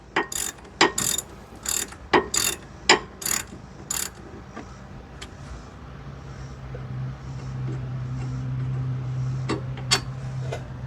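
Hand ratchet clicking in short bursts while loosening a brake caliper bolt during a 4x4 hub and bearing swap, close and crisp, the clicks fading into quieter mechanical handling and a low hum.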